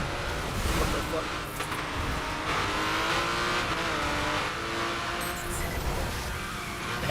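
Supercar engine from the racing game The Crew, droning steadily with shifting revs and tire noise throughout, while a person talks over it.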